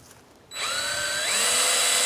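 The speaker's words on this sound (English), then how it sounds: "He's drilling it now so he can put the bolts through." A power drill bores through a greenhouse pipe to make bolt holes, starting abruptly after a quiet moment and then whining steadily and loudly up close, its pitch climbing slightly as it bites.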